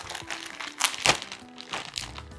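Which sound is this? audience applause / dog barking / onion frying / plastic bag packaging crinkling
plastic bag packaging crinkling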